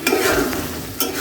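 Potato curry with a fish head being sautéed and stirred in a pan for a Bengali aloo ghati dish, a brief steady sizzle with a sharp scrape of stirring at the start and again near the end.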